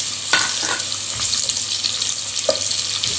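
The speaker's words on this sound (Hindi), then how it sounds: "अब ये प्याज डाल रहे हैं, इसको ज़्यादा तलना नहीं है" Steady hiss of onions frying in ghee in a pan, with a few sharp crackles and a light clink near the start, close and moderately loud, no talking.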